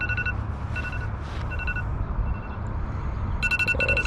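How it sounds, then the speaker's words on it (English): A phone alarm beeps in repeated short electronic tones, faint against a low outdoor rumble while fishing for smallmouth bass in Wisconsin. "Phone alarm's going off."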